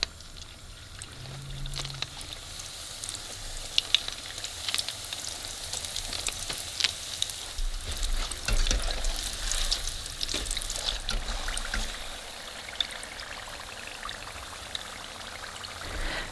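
Egg rolls deep frying in oil, a steady bubbling sizzle with crackling pops that swells partway through and then settles, heard up close with no talking.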